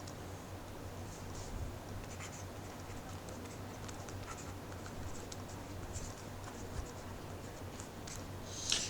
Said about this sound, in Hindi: चलिए अलग से लिखता हूँ।